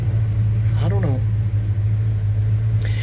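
A 1975 C10 truck engine idles with a steady, loud low rumble that holds unchanged. A brief voice cuts in over the hum.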